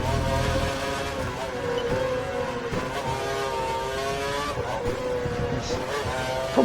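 Formula 1 race cars from the 2012 United States Grand Prix in Texas roar in a racing video game, several engines droning together with rising and falling harmonic whines, loud and steady throughout with no talking.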